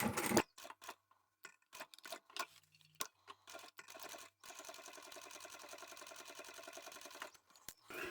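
A sewing machine stitches forward and back on a double-sided fabric glasses case, running in short, faint bursts with gaps, then a longer steady run of rapid ticking stitches.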